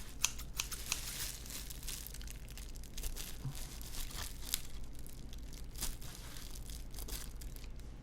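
Scissors snip and packaging crinkles as a PlayStation 2 is unboxed, a quiet, continuous run of close, soft cutting and rustling textures with small crisp bursts and no speech.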